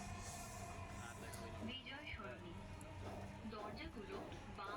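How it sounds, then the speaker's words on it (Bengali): Dhaka metro rail train running fast between Farmgate and Bijoy Sarani, a steady continuous rumble and rattle heard from on board, with people talking over it throughout. "মেট্রো রেল চলছে ফার্মগেট থেকে বিজয় সরণির দিকে, দ্রুত গতিতে চলছে।"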